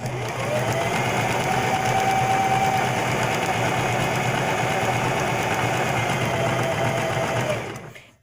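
A serger sewing machine runs a tight serge stitch through slippery fabric, a steady close whirring hum that holds for about seven seconds and then stops.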